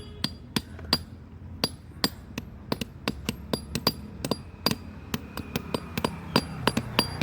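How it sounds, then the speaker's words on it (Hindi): Bolts being driven into holes with a hammer for fixing, a long run of sharp metallic strikes at an uneven, fairly quick rhythm, close and distinct over faint background. "और जब इसे ठोकेंगे तो जब तक टक की आवाज़ ना आ जाए समझेंगे कि अभी ये पूरा फिक्स नहीं हुआ है"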